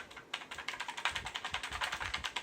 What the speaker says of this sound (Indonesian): Ini switchnya beneran blue dan suaranya cukup clicky.